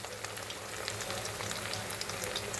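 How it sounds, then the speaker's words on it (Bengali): Pabda fish frying in a pan, a constant soft sizzling hiss with light scattered crackles, fairly quiet and close. "দেখো পাবদা মাছটা ভাজা হয়ে গেছে।"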